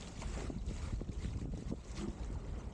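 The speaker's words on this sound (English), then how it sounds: "There's an area with a gust on my left side now." A wind gust blowing across open water on a winter outing on a small craft, a constant loud roar of wind buffeting the microphone that continues without a break, with faint water wash underneath.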